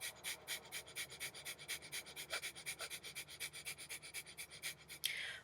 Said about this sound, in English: the bellows breath, the panting.